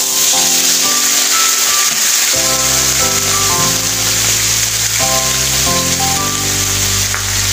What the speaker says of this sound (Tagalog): Gigisa lang po natin ang ating pata.